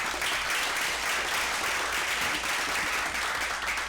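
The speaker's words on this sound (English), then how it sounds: "Let's give her a round of applause." Sustained audience applause at a real estate investing seminar, an even, continuous roar of many hands clapping at steady volume throughout.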